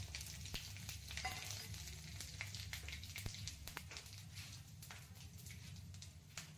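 Bengali five-spice and chopped dried chillies tempering in hot oil, a quiet, continuous sizzle broken by frequent crackling pops and spatters, with no voices.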